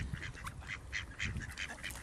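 Geese honk and call at a nature reserve, a run of bright nasal honks in quick irregular bursts, fairly faint with some distance, no voices over them.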